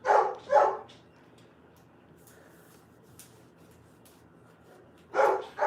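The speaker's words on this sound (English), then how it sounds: "Go see what he's barking at" A dog barks twice close by at the start, then goes quiet and barks twice more near the end, loud against a quiet indoor background during a family gathering.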